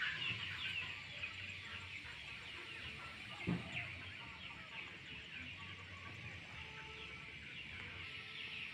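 Chickens clucking on a Hmong hill farm: faint, scattered hen clucks and calls over a steady insect-like hiss, with one brief louder thump midway.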